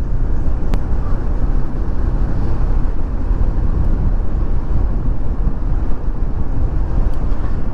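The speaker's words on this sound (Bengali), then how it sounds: "হাওয়া করছে খুব" Strong wind blows hard against the microphone outdoors, a loud continuous low rumble and buffeting roar with no pause, and no voices heard.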